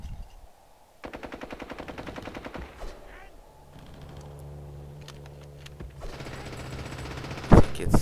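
Machine guns fire in Total War: 1942, a World War II strategy game: a long, steady, rapid rattle of shots, then a quieter stretch with a mechanical hum and a sharp louder burst near the end.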